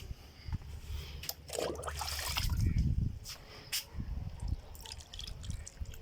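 Water poured onto potted broccoli plants, a soft splashing and trickling that builds to a fuller gush midway, then tapers into scattered drips, close by with no talk.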